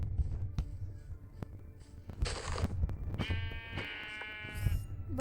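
A goat in a video game bleats in two short nasal cries, the second longer and wavering, over a low rumbling game background with faint clicks.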